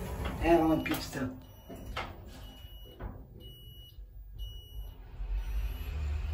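A faint, steady electronic beeping from an office-building elevator in Hamburg, made by LUTZ, heard as a repeated high tone partly under a person talking.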